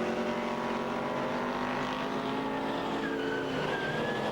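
Stock cars racing at Waikaraka Park speedway during a teams nationals event, engines roaring loud and continuous with sustained drones and rising pitch sweeps as cars circle the track.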